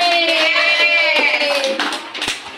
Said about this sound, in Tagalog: O, palakpak naman yan, Joy!